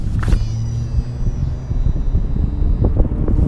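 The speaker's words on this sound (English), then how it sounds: "Crap, that wind." Gusty wind buffets the microphone outdoors on open water during a fishing outing, a steady low roar with rumbling swells and faint background motor-like hum throughout.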